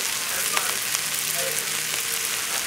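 Onions and dried thyme sauté in a hot pan, giving a steady, close sizzle and crackle with a few faint stirring clicks throughout.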